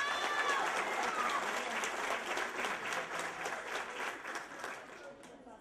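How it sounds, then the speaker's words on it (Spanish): Applause at a school graduation ceremony in Engativá rolls out as brisk, dense clapping from a large audience, steady at first and gradually thinning as it fades toward the end. "Un fuerte aplauso para él."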